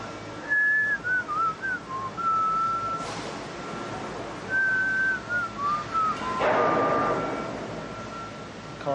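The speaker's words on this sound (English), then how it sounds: "Does anyone ever use the last breath to whistle?" A man whistles the Coronation Street theme tune, a clear melodic line of sustained and sliding notes with a short pause in the middle, close and fairly loud over a faint background hiss.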